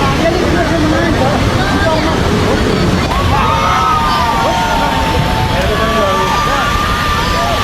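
Rushing flood water in Nepal, a continuous broad churning roar with sloshing, under background voices and crowd murmur.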